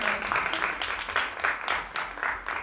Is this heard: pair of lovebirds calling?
no